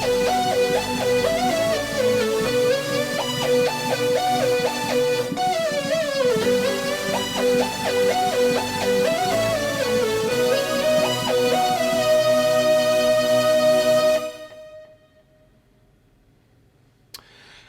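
Keyboard plays the instrumental section of a worship song, a busy repeating melodic line over sustained chords, steady and close for about fourteen seconds, then cut off into near silence.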